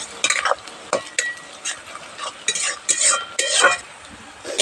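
Sliced onions frying in white oil for beef kala bhuna, stirred with a utensil in a pan: irregular close scraping and clattering strokes over a light sizzle, loud and busy throughout without speech.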